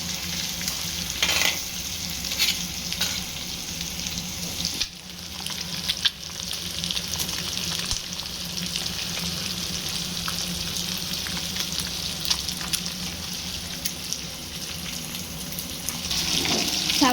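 Fish pieces fry in hot oil in a pan, giving a steady, dense sizzle with occasional crackles and scrapes from stirring, close and continuous throughout.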